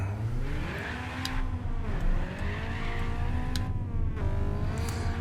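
A Civic drag car in a racing video game revs hard through a second gear launch, the engine note climbing and dropping in repeated sweeps with brief tire chirps, loud and close.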